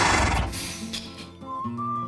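A horse gives a loud, close whinny that tails off, then a softer, higher neigh follows, with some stable bustle around it.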